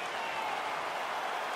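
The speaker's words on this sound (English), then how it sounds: "crowd getting excited as this fight gets underway" Arena crowd cheering and applauding in the UFC 4 video game, a dense steady wash of noise throughout, with a voice talking over it.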